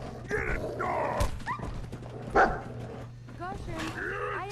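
A dog in Fallout 4 barks and yips in repeated close bursts, with whimpering tones in between, amid game sounds and a voice speaking.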